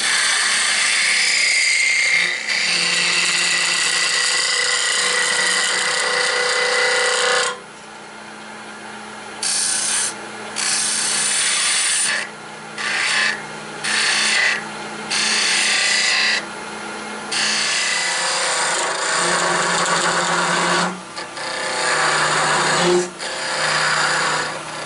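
Wood spins on a lathe while being sanded to 320 grit, a loud steady whirring rasp that runs continuously, then breaks into a series of short bursts and stops toward the end.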